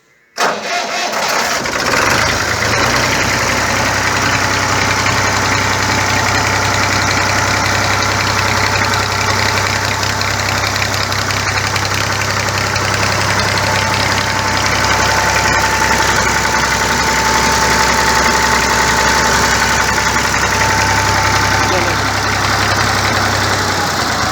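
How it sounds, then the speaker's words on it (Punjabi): A 1975 Fiat 480 tractor, made in Italy, cranks and catches, then settles into a steady, loud diesel idle with a low rhythmic chug that runs close and unbroken to the end. "ਇੰਜਨ ਦਾ ਸਾਊਂਡ ਸਿਸਟਮ ਚੈੱਕ ਕਰ ਲਵਣਗੇ ਦੋਸਤ"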